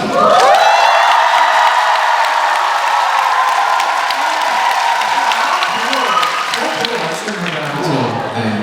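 A live audience at a Korean book talk cheers and applauds loudly and continuously, a dense roar of clapping and whoops that slowly fades toward the end.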